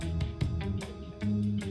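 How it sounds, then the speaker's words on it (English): A cartoonish bear sound from a jungle rescue video game, a low sustained growl-like tone with harmonic wobble and a few brief clicks, playing alone at moderate loudness. "Remember, a bear sounds like this."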